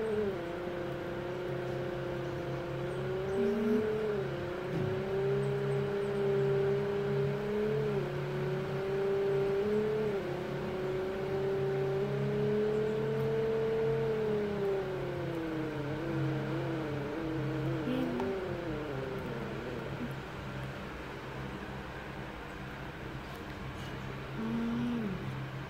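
A car engine in the Roblox Greenville game runs steadily throughout, humming at an idle and swelling into gentle revs as the pitch rises and falls. No one speaks.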